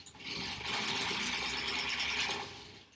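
A home sewing machine runs steadily for about three seconds while stitching along a line during foundation paper piecing of a quilt block, with a fairly even mechanical whir and no talking.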